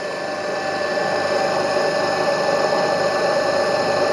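An induction asynchronous AC motor runs steadily under brake load on a test bench, giving a loud, continuous electric hum with a constant tonal whine and even mechanical drone, no speech.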